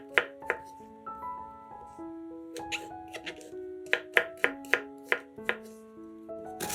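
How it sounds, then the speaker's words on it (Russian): A knife chops mushrooms on a cutting board in a run of sharp, irregular taps, with soft background music playing underneath. "Шампиньоны моем и нарезаем небольшими кубиками"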